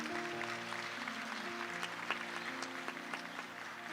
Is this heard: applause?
yes